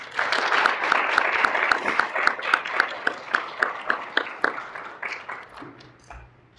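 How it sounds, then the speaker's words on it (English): An audience at a Tuskegee University public health ethics forum applauds, the clapping dense at first, then thinning into scattered individual claps before fading out. "Let's give them a round of applause, please."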